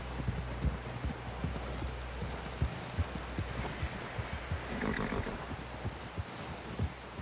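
Horse hooves in the video game Red Dead Redemption 2: a steady clip-clop of hoofbeats at a walking-to-trotting rhythm, repeated many times over a wind-like ambient bed, moderately close and fairly quiet.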